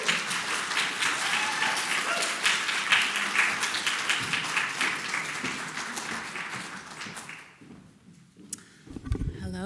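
An audience at a lecture event claps in sustained applause to welcome a speaker to the stage, a dense steady patter that fades out near the end, followed by a brief bump from a microphone.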